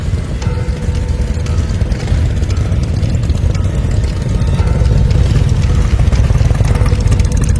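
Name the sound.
motorcycle engine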